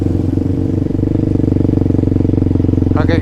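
An off-road vehicle engine idles and rumbles steadily up close at an offroad park, with a throbbing, even beat and a short rattling rise at the very end as it pulls away.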